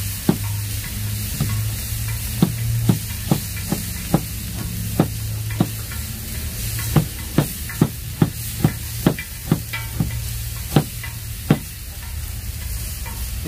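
Chopped tomato and vegetables sizzle and fry as they brown in a pan, with a steady hiss under a regular series of sharp clicks and taps from stirring, close and fairly loud, no voices.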